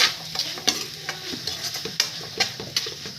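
A spoon keeps stirring hot tempering in a pan for curd rice, sharp metallic clinks and scrapes at an uneven quick rhythm over a soft background sizzle, close and without speech.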